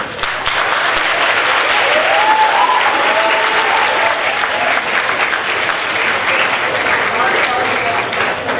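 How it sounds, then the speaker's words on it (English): Audience applause at an inter-school debate, a dense, sustained round of clapping from a hall full of people, loud and steady throughout, with faint voices mixed in. "Thank you for the applause."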